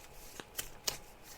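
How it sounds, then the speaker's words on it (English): Fortune cards shuffled by hand up close, a few quiet crisp riffling snaps spaced unevenly over a faint background hush. "So I'm just shuffling the cards now."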